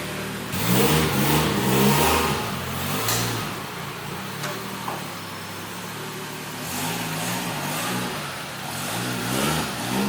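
A Nissan S14 Kouki on its first drive in six years revs repeatedly, its engine climbing and dropping in several surging bursts with short quieter lulls between, close and fairly loud.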